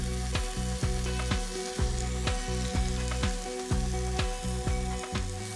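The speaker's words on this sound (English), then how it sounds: "Now we're just going to make this onion nice and aromatic, get it all coming together." Onions fry in a pan with a steady close sizzle, broken by regular clattering knocks as they are stirred and tossed, with no voices.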